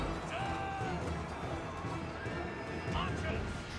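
Cavalry horses whinny in the battle game Total War: Arena, several neighs rising over a dense noisy battle din while someone talks.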